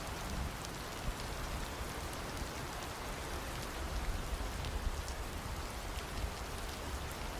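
Steady rain falls throughout as a dense, even hiss of countless drops, constant in level with no thunder and no voices.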